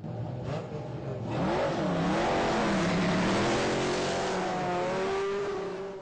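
Race cars at the start of the Dakar 6-hour race, including the over-2-litre A3 class, roar loudly with rising, revving engine notes and overlapping pitches as they accelerate away close by.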